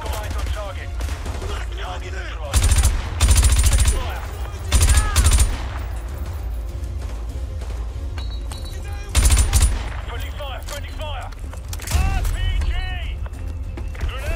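Gunfire in Call of Duty Modern Warfare 2 Remastered, several loud bursts of automatic fire separated by quieter stretches, with voices speaking and radio chatter in between.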